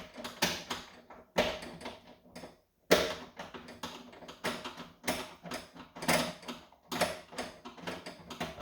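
Lid spring fasteners being loosened on a JVR Vac100 chamber vacuum sealer, close mechanical clicking and ratcheting in repeated bursts with brief pauses, like a hand tool turning in short strokes.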